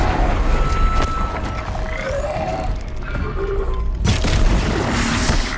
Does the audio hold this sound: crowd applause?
no